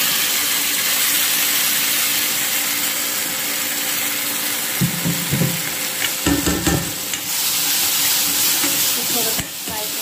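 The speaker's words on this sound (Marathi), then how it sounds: "कढीपत्ता थोडा रोस्ट केल्यानंतर, तडतडल्यानंतर तर आपण बनवलेलं मिक्सर त्यात टाकूया." Ground masala paste fries with roasted curry leaves in a hot pan, giving a loud continuous sizzle and intermittent clattering stir strokes in the second half.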